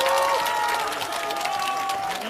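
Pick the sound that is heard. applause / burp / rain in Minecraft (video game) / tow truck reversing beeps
applause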